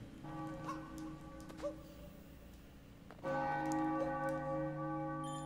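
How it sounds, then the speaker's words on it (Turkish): Church bells ring in the Super Mario Odyssey video game, with sustained metallic tones that swell louder partway through over soft background game ambience. "Çanlar bizim için çalınıyor"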